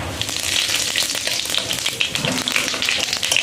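Cumin seeds fry in hot oil for a mustard fish curry, giving a close, loud, continuous sizzle with crackling pops and occasional stirring, no voices.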